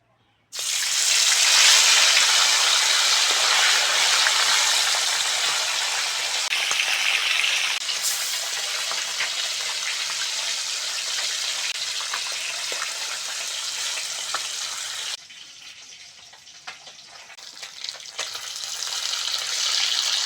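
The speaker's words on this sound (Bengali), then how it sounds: "মাছ ভাজার জন্য কড়ার মধ্যে তেল দিয়ে দেবো" Loud, continuous sizzling and crackling of parshe fish frying in hot oil in a kadai, steady throughout with a slight dip near the end.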